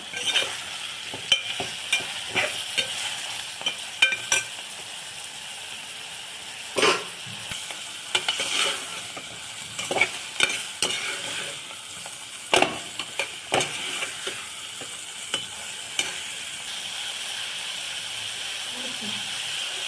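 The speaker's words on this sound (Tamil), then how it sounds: "இப்போது நம்ம மீல் மேக்கர் இதில் சேர்த்துக்க போகிறோம். சேர்த்து நல்லா இப்போ கிளறி விட்டுக்கலாம்." Soy chunks are stirred as they fry in a pan for a meal maker gravy, with a steady low sizzle broken by repeated sharp scrapes and clacks of the spoon against the pan, close and fairly loud.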